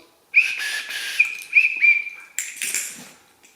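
A RINO Ready car kit emergency whistle is blown in several short, shrill blasts. The blasts are close and loud, with brief gaps between them and a breathy rush at the end.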